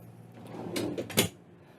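An ambulance supply drawer slides open or shut, giving a couple of close scraping, rattling pulls that end in a sharp clack.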